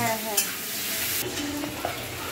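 Onions fry with boiled goat meat in a pan, giving a steady close sizzle broken by scraping stirs of a spoon against the metal.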